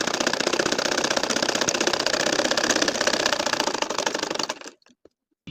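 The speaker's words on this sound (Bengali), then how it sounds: "এখন এই যে বাকি আর হাফ অংশটাও সেলাই করতেছি" A sewing machine stitches a nakshi kantha quilt in a fast, even run of mechanical clatter that sounds close and continuous, then stops abruptly near the end.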